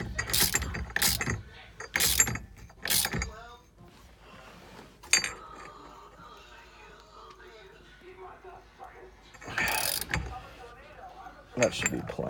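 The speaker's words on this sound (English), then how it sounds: "Gonna tighten down the hub here." A steering wheel hub being tightened onto a 1993 Nissan 240SX with an NRG quick release, heard as close clicking, ratcheting and knocking bursts separated by quieter stretches.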